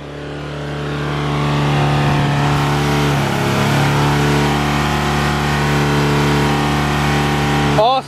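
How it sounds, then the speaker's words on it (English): An Eco Rinse mobile detailing machine on a trailer rig runs with a loud, steady mechanical drone. The drone ramps up at the start, holds level, then cuts off abruptly after a brief squeal at the end. "Turn the Eco Rinse machine off."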